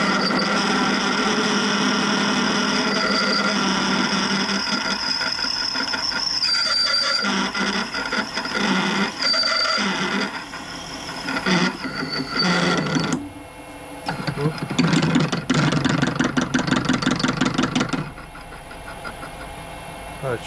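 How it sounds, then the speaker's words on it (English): A Myford ML7 lathe motor runs after being sped up, giving a continuous whining mechanical drone with shifting tones. Intermittent clatter and dips in the sound break up the running noise, and it stays loud and close throughout. "I can speed it up, the motor up a little."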